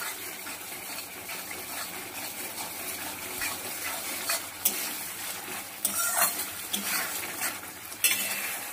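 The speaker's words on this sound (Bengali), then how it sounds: "ভালো করে সমানে কষাচ্ছি।" Spice masala being stirred and fried in a pan, a continuous soft sizzle with repeated scraping strokes of a utensil and a few sharper clinks, close and moderately quiet, with no voices.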